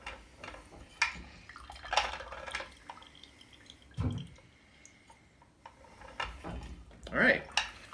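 White grapefruit juice drips and splashes into a container in scattered irregular drops, with light clinks of dishes and utensils between them; a voice speaks briefly.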